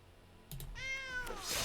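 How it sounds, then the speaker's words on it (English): A single cute cat meow plays as the sound effect for a large creature card in the MTG Arena digital card game. It is short, rising and falling, and clear against near silence. "Giant thing makes a little meow sound."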